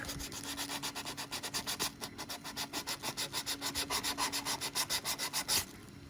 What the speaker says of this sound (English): So I'm going to grab that sandpaper again